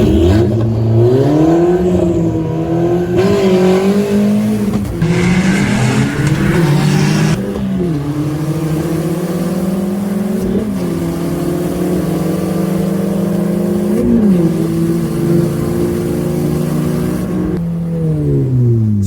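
An all-wheel-drive Chevrolet Nova makes a drag racing run, its engine loud and close as it revs hard and climbs through several gear changes, each upshift dropping the pitch before it rises again, with no talk over it.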